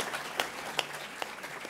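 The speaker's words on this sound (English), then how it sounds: "Give her a big round of applause with 2 hands," Audience applause at a public forum on Chicago Public Schools, a quiet, thin patter of clapping with a few sharper individual claps, fairly faint and distant, with no talk over it.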